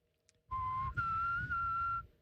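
A single whistled note, then a slightly higher sustained tone held for over a second, close and clear against a low background rumble, in a radio studio.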